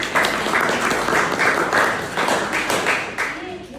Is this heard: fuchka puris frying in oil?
no